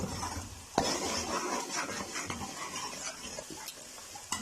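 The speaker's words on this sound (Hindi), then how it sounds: "हमारा लहसुन अदरक भून चुका है, खुशबू होना शुरू हो गई है" Garlic and ginger sizzle gently in a pan with occasional spoon scrapes and clinks of stirring, close and fairly quiet.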